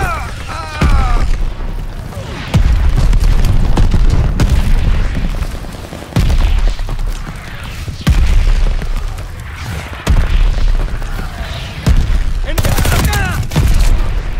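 Mortar rounds burst in a combat video game as repeated heavy booms every couple of seconds, loud and close, amid a dense wash of gunfire and rumble with voices talking over it.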